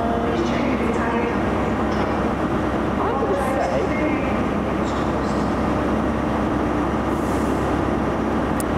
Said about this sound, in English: Trains in at Glasgow Queen Street. This is ScotRail operating station.